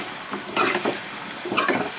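Small diced potato pieces go into a hot pan for a tahiri-style breakfast with curry leaves and green chilies, giving a soft, steady sizzle with a few stirring scrapes and two louder bursts as they are tossed.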